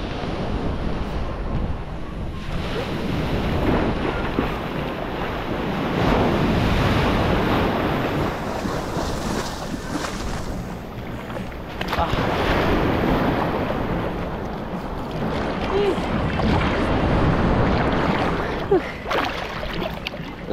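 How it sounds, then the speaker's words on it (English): Ocean waves wash onto the beach at Cagwait, Surigao del Sur, surging and receding in slow swells with steady wind buffeting the microphone. "This is the beach of Cagwait."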